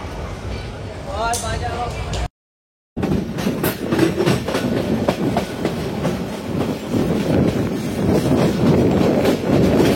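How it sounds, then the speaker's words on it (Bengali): The Titas Commuter train pulls out of Bhairab Bazar Junction, steady rumbling and rhythmic clickety-clack of wheels on rails building up, with someone speaking over the onboard noise. "আমাদের ট্রেনটি এখন ভৈরব বাজার জংশন থেকে ছেড়ে দিল"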